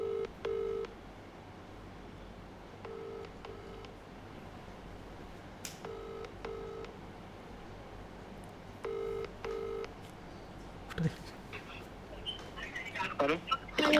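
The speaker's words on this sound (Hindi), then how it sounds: "अपने किसी ऐसे रेंडमली दोस्त को कॉल कीजिए।" A phone dials a friend: a rhythmic, repeating two-tone ringback tone pulses at regular intervals, quiet and clear, followed by louder handling and voices near the end.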